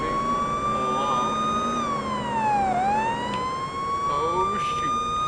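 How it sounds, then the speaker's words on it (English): A police car siren in the Police Simulator video game wails continuously and loudly, holding a steady pitch, sweeping down into a dip and back up, with engine and road noise running underneath. "I'm actually going to run my siren until we get to the precinct"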